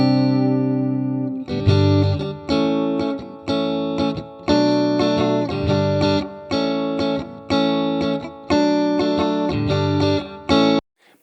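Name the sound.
Fender Stratocaster electric guitar through Fender amp with reverb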